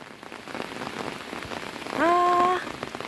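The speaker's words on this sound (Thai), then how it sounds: "ฝนตกแบบ นักหน่วงเลยพี่น้องเอ้ยแบบพายุเข่าอะไรเนาะ" Heavy storm rain pours steadily in a rural Thai village, a dense close hiss, with a brief whistle-like tone rising over it near the end.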